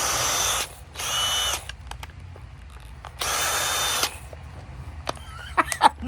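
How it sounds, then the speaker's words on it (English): A Ryobi cordless drill runs in three bursts of steady high whirring, each about a second long, with clicks and handling knocks after the last burst. "There's my drill."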